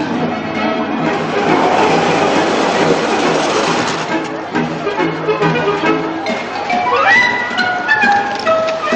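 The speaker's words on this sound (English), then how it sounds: "here comes the lovely little train" A little train passes by with rhythmic clickety-clack wheels and a rushing rumble, close and fairly loud, ending in a rising whistle-like squeal.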